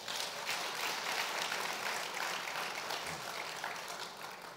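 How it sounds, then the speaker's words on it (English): A church congregation claps for itself during a Sunday service, a steady, dense wash of applause filling the room at moderate level without breaks, easing slightly toward the end. "Can you give yourself a clap?"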